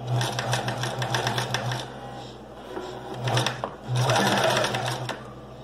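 A sewing machine stitches a bag seam in quick, close, rapid-fire bursts of mechanical chatter with short pauses, then a brief backstitch run, while a voice speaks quietly underneath.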